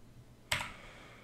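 A single sharp computer keyboard keystroke, close and faint, with a short decay over quiet background hum.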